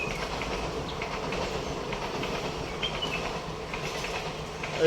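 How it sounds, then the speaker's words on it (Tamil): A train passes at moderate distance, a continuous rolling rumble with faint rhythmic clatter of wheels on track. "ட்ரெயின் போகிறது"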